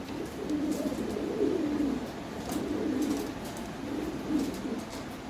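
Toy Lahori pigeons coo in repeated soft, low rolling phrases, several in a row at close range over a steady background hum, with faint clicks in between.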